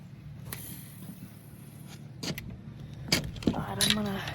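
A car drives slowly past someone bass fishing outdoors in freezing weather, a soft rising rumble with jangling and rattling at close range, ending in a brief murmur of voices.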